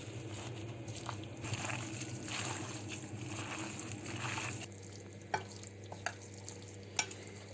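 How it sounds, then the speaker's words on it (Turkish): Soft, continuous scraping and swishing of stirring corn flour fritter batter in a bowl, then quieter, followed by a few light clinks. "Bunu karıştırıyoruz arkadaşlar. Bunu birbirine harmanlayalım."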